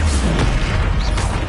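Casting the Confringo explosive spell in Hogwarts Legacy on PlayStation 5 sets off a short, close, loud blast with a deep boom that crackles and fades within a second and a half.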